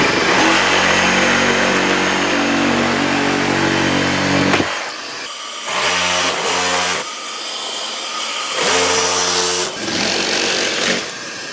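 A sawzall reciprocating saw cuts out wood at an entry door opening, buzzing loudly in three bursts with short pauses between them as the blade bites and stops.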